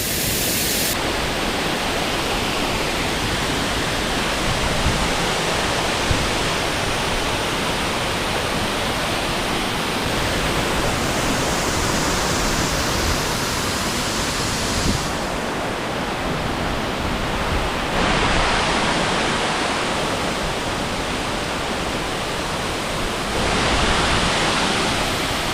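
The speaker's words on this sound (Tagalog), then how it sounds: "andito tayo ngayon sa Tamaraw Falls ng Oriental Mindoro" Tamaraw Falls waterfall in Puerto Galera, Oriental Mindoro, roars with a steady, dense rush of falling water, loud and close throughout with no voices.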